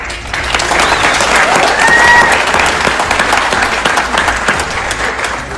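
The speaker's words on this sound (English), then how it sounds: "Keep the applause going for everybody" A large audience at a pageant claps enthusiastically in a loud, sustained ovation, swelling slightly and continuing throughout, with faint cheers and murmurs mixed in.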